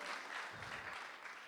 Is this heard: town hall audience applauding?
yes